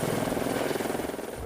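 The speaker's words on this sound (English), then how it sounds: "air support from the Lake County Sheriff's helicopter" A Lake County Sheriff's police helicopter roars overhead with a loud, dense rotor thrum and fast, pulsing beats that fill the whole moment, with no voices heard.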